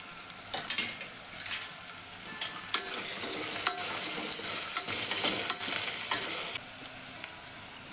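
Cumin and mustard seeds fry in hot oil for veg pulao, a bright crackling sizzle with spluttering pops and a few spoon clinks against the pan, close and steady with no talk until it cuts off near the end.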